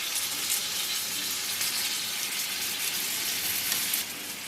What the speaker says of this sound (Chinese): 沿着锅边倒一点点清水